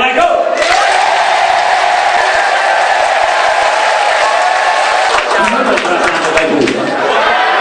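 Loud, sustained applause with whoops and cheers from a seminar audience at a large motivational event, filling the room continuously and tapering slightly near the end.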